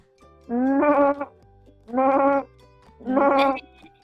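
Children imitate a goat's bleat with three drawn-out vocal "meh" calls in a steady rhythm, each loud and close, with short pauses between them.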